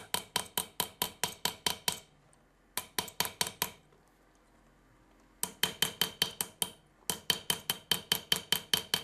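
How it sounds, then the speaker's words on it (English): Sharp metallic hammer blows on a steel chisel in quick rhythmic bursts, each strike ringing briefly, with short pauses between the series of taps, during Kaga zougan metal inlay work. "strikes it with his hammer to slightly widen the bottom"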